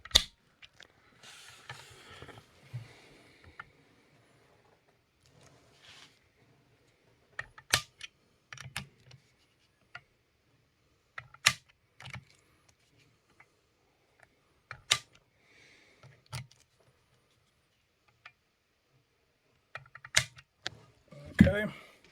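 A torque wrench tightening scope mount screws on a rifle gives a scattered series of sharp clicks and small metallic taps between quiet gaps, with soft handling noise.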